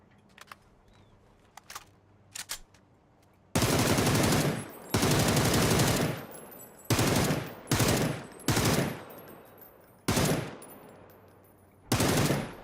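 Bursts of gunfire from ship-mounted weapons on a Dragon gunboat in the space game Starfield, opening with a few brief faint shots, then several loud sustained volleys separated by short pauses.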